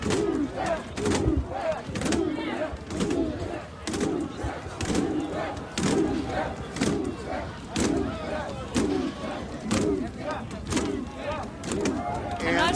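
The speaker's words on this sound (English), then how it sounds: "There's a crowd." Crowd gathered on a street in Washington, DC under a curfew with National Guard present, a dense steady murmur of many voices broken by rhythmic loud thumps or shouted bursts repeating roughly every second, close and continuous throughout.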